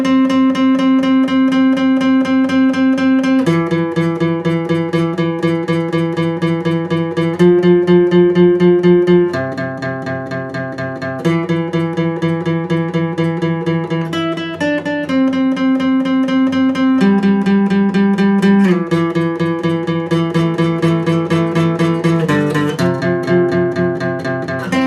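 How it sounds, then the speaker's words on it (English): Electric guitar playing the first riff of a song at full tempo, a steady run of sustained chords that changes every few seconds, loud and close, with no voices. "All of riff A in real speed is going to sound like this."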